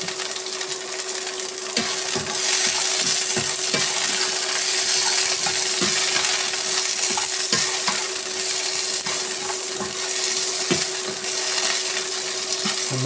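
Green chillies for pickle sauté in a pan with a steady, loud sizzle and occasional stirring clicks and scrapes running throughout.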